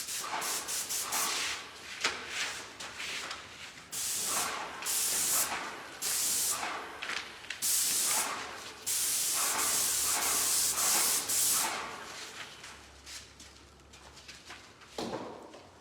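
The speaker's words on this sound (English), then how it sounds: "So we have some SW Naval in emerald trim urethane to spray over this guy." SW Naval emerald urethane trim paint sprayed onto a cabinet door, a series of hissing spray-gun bursts of varying length with short pauses between them, close and moderately quiet.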